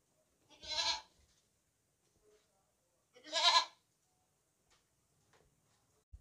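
A healthy, long-eared goat gives two loud, close bleats a few seconds apart, each a short wavering cry, with near silence between them.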